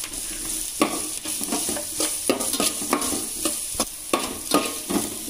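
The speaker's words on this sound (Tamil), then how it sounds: "இப்போ நல்லா வதங்கிடுச்சு." Garlic and green chillies sauté in a pan for potato fried rice, giving a constant close sizzle with repeated rhythmic stirring scrapes throughout.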